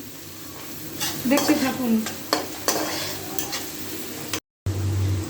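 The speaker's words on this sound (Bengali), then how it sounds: "আমি এখন পেঁয়াজটা কাঁচামরিচটা তেলে ভাজা ভাজা করব" Onion and green chili sizzle in hot oil while a utensil stirs and scrapes the pan in bursts; a voice speaks briefly over the frying.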